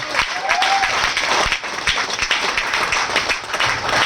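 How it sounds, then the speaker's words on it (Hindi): An audience applauds at a direct selling motivational seminar, a dense, steady wash of many hands clapping at full strength for several seconds, with a faint voice or two mixed in. "Please big hand, जोरदार तालियों के साथ रिगार्ड कीजिए।"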